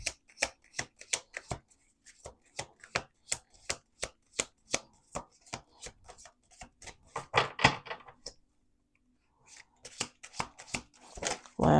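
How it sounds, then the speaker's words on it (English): Crisp, rapid rhythmic slapping of cards being shuffled, in repeated bursts with short pauses between them, close and fairly quiet. "2 more shuffles."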